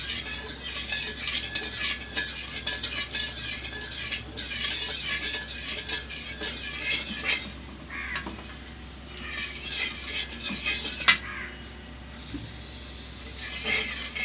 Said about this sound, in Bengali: এটা 5-7 সেকেন্ডের মতো নাড়াচাড়া করে দিয়ে দিব মাছগুলো